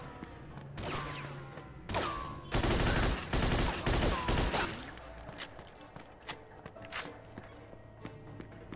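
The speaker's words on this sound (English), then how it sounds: "I tricked him into coming out just by shooting in his general direction." Gunfire in the Mafia 2 video game, including an MP40, comes as a run of loud bursts with rapid shots and heavy clustered volleys in the middle, then scattered lighter shots and clatter toward the end.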